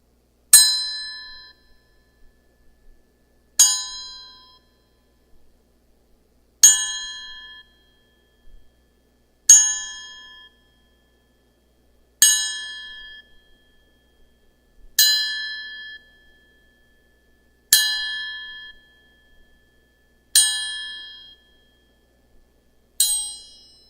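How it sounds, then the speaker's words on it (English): A bell rings out a slow, solemn salute of evenly spaced single strikes, each a bright metallic clang that rings and fades before the next, repeating about every three seconds with silence in between. "Nice little 10-bell salute"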